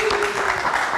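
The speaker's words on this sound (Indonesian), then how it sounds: "Kita kasih tepuk tangan sekali lagi." Applause from a studio audience at a live talk show fills the whole second as a steady, moderately loud wash of clapping, with a voice briefly audible underneath.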